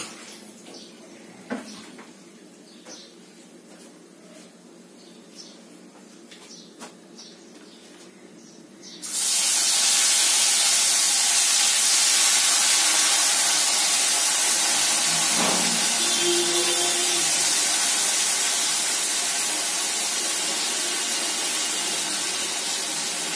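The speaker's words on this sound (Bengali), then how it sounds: "এবারে তেলের মধ্যে দেবো নুন, হলুদ দিয়ে মাছগুলো ছাড়বো এবার এক এক করে" Fish pieces go into hot oil seasoned with salt and turmeric: quiet kitchen clatter gives way to an abrupt, loud, steady sizzle and hiss that fills the rest of the clip, with a few faint clinks under it.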